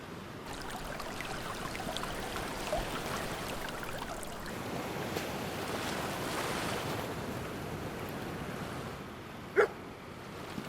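Ocean surf at a remote, bush-fringed coast near sunrise: a steady, continuous wash of waves with wind rushing over the microphone, one brief sharp knock near the end.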